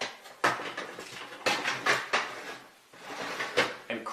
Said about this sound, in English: Place the rack back inside